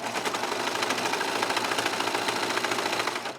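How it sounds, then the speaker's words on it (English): A 4-thread serger runs continuously through towel fabric, a dense rapid chattering hum that stays close and loud throughout with no pauses. "It's a 4-thread serger."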